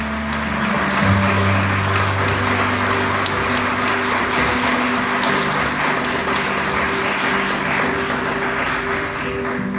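A church congregation claps loudly and steadily for about ten seconds as a dense wash of applause, with a sustained musical tone underneath.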